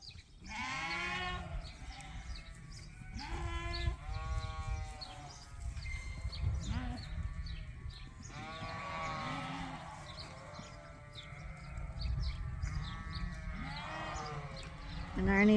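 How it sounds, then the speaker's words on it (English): A flock of Suffolk and Dorset ewes bleats repeatedly, several overlapping calls near and farther off, with rustling and low ambient noise underneath throughout. "And Arnie just let the ewes out."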